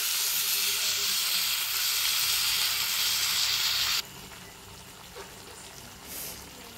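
Spice paste hits hot oil in a wok alongside fried elephant foot yam, giving a loud steady sizzle that suddenly drops to a quieter, softer frying hiss partway through.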